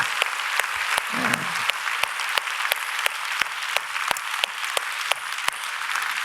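A church congregation at a Korean Sunday service applauds to encourage the fathers: steady, dense clapping from a crowd, with a few sharp individual claps standing out throughout.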